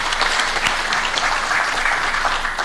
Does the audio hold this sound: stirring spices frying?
no